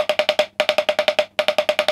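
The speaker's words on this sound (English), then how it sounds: "we've got the equivalent of a seven stroke roll" A snare drum plays quick, even bursts of a seven stroke roll, crisp and close. Three tight groups of rapid strikes are separated by brief gaps, with no voice.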